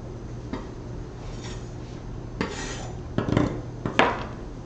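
A knife chops shallots into a small dice on a cutting board, giving a handful of scattered, moderately close taps and knocks over a low steady background hum, with no talking.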